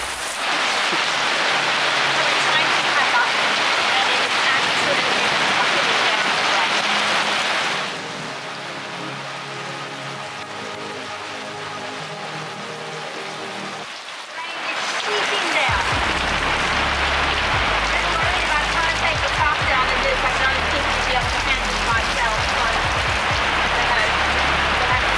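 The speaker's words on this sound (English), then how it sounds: "The next day we woke to torrential rain." Torrential rain pours down in a constant loud hiss, briefly softening midway before returning at full force, with some talk mixed in during the quieter stretch.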